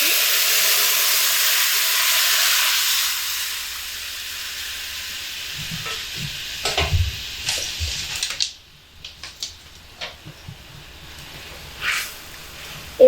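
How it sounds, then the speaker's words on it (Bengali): Keora fruit water poured into hot oil tempered with whole cumin and mustard seeds gives a loud steady sizzling hiss that fades, followed by scattered clinks and bubbling pops. "এবার এর মধ্যে আমি কেওড়ার যে জল সেটা ঢেলে দিচ্ছি"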